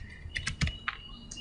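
Keys tapped on a computer keyboard while typing in Microsoft Word, a quick cluster of five or six close clicks with one heavier thump, fairly quiet with no talking.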